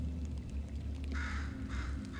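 Crow-like bird cawing in the video game Portal 2, three or four harsh raspy calls over a steady low game hum, fairly close and moderately loud with no talk.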